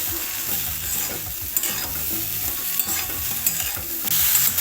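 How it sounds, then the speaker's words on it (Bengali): Cauliflower frying in a pan with salt, stirred steadily with a utensil scraping in repeated strokes over a constant loud sizzle, a few sharper clinks against the pan. "কপিটা একটু ভাজা ভাজা হয়ে এসছে, আমি দিয়ে দিচ্ছি এখানে স্বাদ মতন লবণ দিয়ে আবারও ভালো করে আমি মিশিয়ে নিচ্ছি।"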